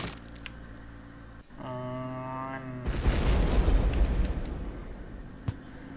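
In the Roblox game Build A Boat, a loud, rumbling explosion bursts in after a short electronic tone, then its roar slowly fades as a single sharp pop closes it out.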